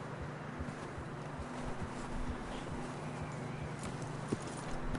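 Horse hooves clip-clopping in a video game, a quiet, steady run of hoofbeats under a faint windy backdrop, with no talking.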